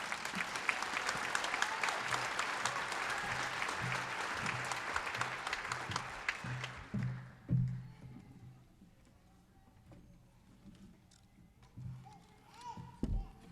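An audience at a 2012 commencement ceremony bursts into sustained applause to welcome the speaker to the podium. The clapping is dense at first, then thins to scattered claps and faint room murmur with a few knocks.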